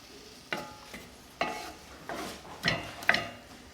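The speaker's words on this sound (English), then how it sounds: "Now we're going to saute these onions and peppers until they get a little clearer." Onions and peppers sautéing over medium heat in a pan for Cajun barbecue shrimp, heard as a soft steady sizzle broken by several stirring scrapes and clinks spaced across the moment, fairly close with no talking.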